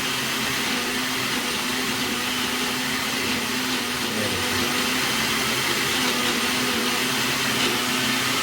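A blender runs at high speed grinding garlic and mint chutney, a steady loud motor whir with a constant hum that continues unbroken throughout, with no voices over it.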